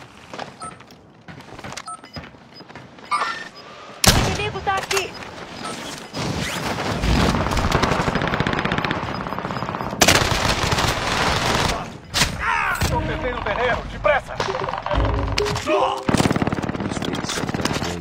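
Call of Duty Warzone firefight, starting quiet before loud bursts of automatic fire and sharp single shots come in and out, mixed with crashes and clattering effects, with game voice callouts over the top.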